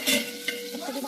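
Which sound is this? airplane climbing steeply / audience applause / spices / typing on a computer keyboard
spices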